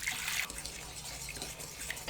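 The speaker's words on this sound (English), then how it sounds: "Now add the water and yeast mixture." Water and yeast mixture pours into a mixing bowl of pretzel dough ingredients, a soft continuous liquid splash and trickle that stays fairly quiet and close, with no voices.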